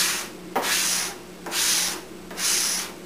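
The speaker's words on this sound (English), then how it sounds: "And just use a notch trowel." A Hyde 19120 small-notch trowel drags adhesive across wood veneer in three long rasping strokes, each a broad scraping hiss separated by short pauses.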